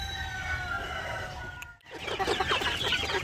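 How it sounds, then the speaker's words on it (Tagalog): Young pullets cluck and call at close range, a steady mix of fowl noise with whistly tones early on, then a brief dip before busier, louder clucking resumes. "So ito naman yung ating mga sisiw o hindi na matatawag na mga sisiw ito mga farmers kundi ito ay pulit na."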